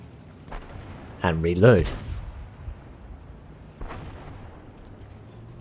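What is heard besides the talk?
artillery fire in World of Tanks video game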